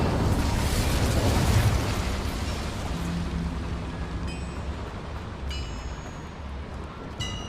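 Incendio fire spell cast in Hogwarts Legacy, a loud roaring whoosh of flame that gradually fades under steady game ambience, with a few brief bright chimes near the end.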